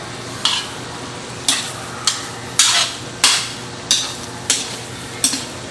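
Menudo with bay leaves is stirred in a pan for a school canteen, giving about seven separate loud scraping strokes at roughly regular intervals over a low steady sizzle, close up, with no one talking.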